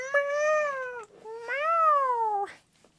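People imitate a cat with two drawn-out meows, close and clear, each with a rising-then-falling pitch and a short gap between them.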